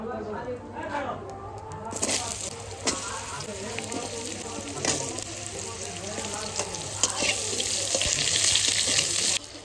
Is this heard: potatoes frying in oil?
yes